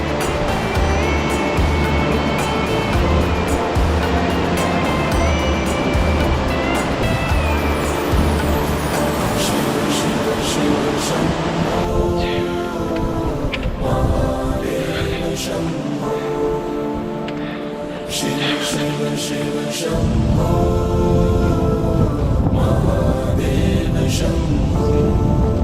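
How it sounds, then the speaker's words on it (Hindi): A waterfall and the flowing Ganga river on the Gaumukh–Tapovan trek in the Himalayas make a loud, continuous broadband rush of water, steady throughout with shifting texture. "गौमुख से तपोवन जाते हुए एक झरना जो ऊपर तपोवन से आ रहा है"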